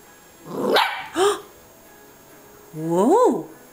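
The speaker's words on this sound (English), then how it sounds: "That's our first bark." A dog close by gives two short barks, then a longer yelping bark that rises and falls in pitch.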